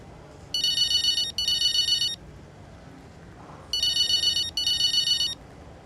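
In the racing game F1 25, a synthetic telephone ring sounds in two paired bursts of trilling electronic tones separated by a pause, clear and prominent over a low background hum.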